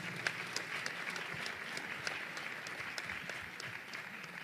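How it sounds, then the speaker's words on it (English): An audience at a forum on the state of Black America gives the students steady, close applause, with a few sharp claps standing out from the crowd. "Give the students a round of applause."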